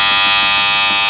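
A 110 volt hair clipper run on 50 Hz European mains, giving a loud, harsh, continuous motor buzz with a rich high-pitched whine, close and steady throughout.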